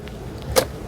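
A short, sharp mechanical click sounds once as the seat lever of a 2022 Chevrolet Suburban RST releases for third-row access, close and brief against quiet auto-show room noise.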